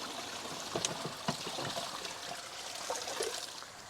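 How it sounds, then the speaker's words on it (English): Water trickles and splashes as it falls through the screen of an Oase ScreenMatic2 pond filter onto the filter foams below, a steady close stream with scattered drips, heard alone. "water does fall nicely within the filter foams"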